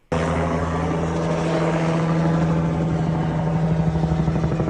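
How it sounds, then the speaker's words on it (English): A helicopter circles overhead above a house, its loud, steady rotor and engine drone holding constant throughout with a strong low throb and no voices. "the helicopter's back, circling over my house"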